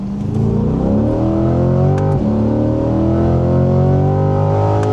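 A C8 Corvette pulls at full throttle, its engine note loud and close, climbing steadily in pitch with a brief break near the middle as it shifts, then rising again without any talk.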